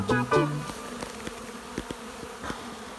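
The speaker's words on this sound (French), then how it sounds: "Elles sont excitées les abeilles, on les énerve là." Honey bees buzz at an apiary in Tenerife, a close, steady insect drone with brief louder passes of individual bees and a few soft ticks and knocks around it.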